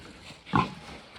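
One brief pig grunt, fairly faint, rising out of a low steady background hum.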